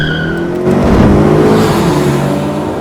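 A Mitsubishi Eclipse DSM about 25 years old, still on its stock suspension, drives close and loud, the engine droning and climbing in pitch as it accelerates, with road and tire noise underneath.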